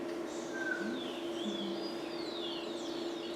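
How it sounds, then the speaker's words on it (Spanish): A rufous-collared sparrow (Zonotrichia capensis) gives thin, high whistled notes and short slurred phrases at moderate distance, set against a steady low hum of background noise. "ahí se escucha facilito el sonotriquia capensis"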